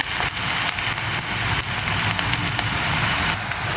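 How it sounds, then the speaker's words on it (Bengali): Onions fry in a pan for a mini fish bhuna, giving a steady close sizzle and crackle that holds throughout with no talking. "পেঁয়াজটা ভেজে নিচ্ছি।"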